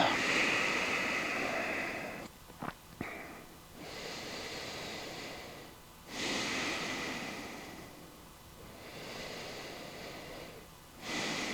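Heavy breathing during a hamstring and calf stretch, with long, slow breaths drawn in and pushed out close by in a quiet room, a few sharp sniffs among them.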